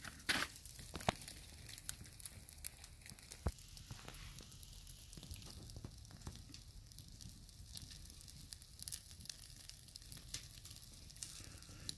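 Steak searing in a pan at a day camp, a faint continuous crackling sizzle dotted with sharp pops and spits, close by and alone with no talking.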